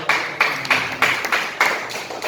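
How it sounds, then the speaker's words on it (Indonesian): Students in a classroom clap together in a rhythmic group pattern, about seven sharp unified bursts with brief gaps, loud and close, with no talking over it. "Tepuk tangan"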